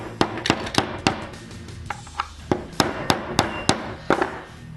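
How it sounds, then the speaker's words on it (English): Sharp metallic hammer taps strike a silver ring in a fairly regular rhythm, about a dozen close, ringing blows with a short pause partway through. "First up, let's make it round with a bit of hammering."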